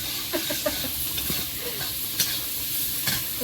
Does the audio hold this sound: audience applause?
no